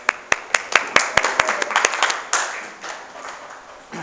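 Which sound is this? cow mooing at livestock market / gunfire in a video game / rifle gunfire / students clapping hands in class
students clapping hands in class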